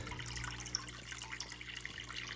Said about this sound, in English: it's also shooting out water there